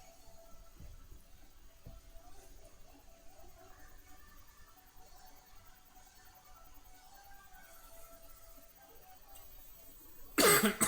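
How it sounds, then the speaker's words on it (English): One sharp cough bursts out close by near the end, after several seconds of quiet room tone with a faint hum, during a Pokémon Let's Go Eevee shiny-hunting game session. "Excuse me, I got a cough now."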